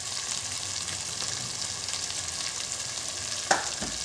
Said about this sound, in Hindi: अदरक लहसुन के साथ टमाटर भूनते हैं तो अच्छा घुल जाते हैं